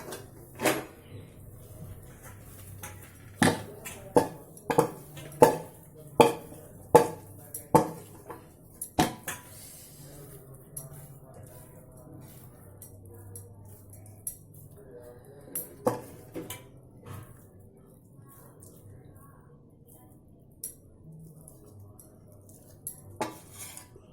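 Cooked besan being moved onto a plate with metal utensils, a burst of sharp clinks and scrapes against the plate, then sparser taps with quiet gaps between.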